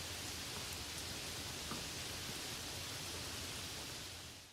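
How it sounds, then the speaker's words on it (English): Heavy rain falls in a dense, steady hiss, loud and unbroken throughout with no other sounds. "But it's raining so hard we'll get soaked."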